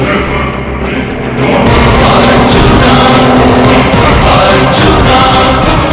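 A car drives up in a Tamil-dubbed movie scene, with a loud, steady engine roar that swells after a quieter opening and carries a rapid pulsing rhythm throughout.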